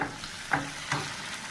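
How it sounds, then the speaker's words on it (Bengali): Shrimp dropped into hot oil with whole cumin, a brief close sizzle with two soft stirring scrapes, fairly quiet and with no talk. "একটু ভেজে নিয়ে এবার আমি চিংড়ি মাছগুলো দিয়ে দিচ্ছি"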